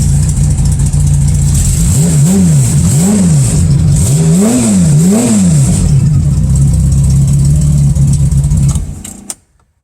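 A Honda Goldwing flat-six motorcycle engine swapped into a classic VW Beetle idles in neutral, then blips through several quick rising-and-falling revs before settling and cutting off abruptly near the end, loud and close.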